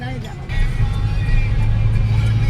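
A Suzuki Fronx under way, its steady low engine and road rumble filling the cabin while someone speaks over it.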